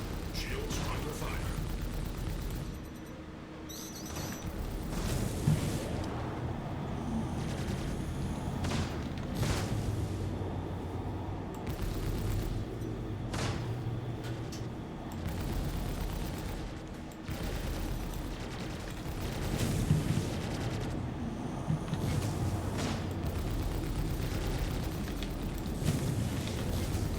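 Aegis Redeemer gunship in Star Citizen taking fire on its shields, with repeated booming impacts, bursts of weapon fire and mechanical clatter spread over nearly half a minute, while someone talks at times over the combat.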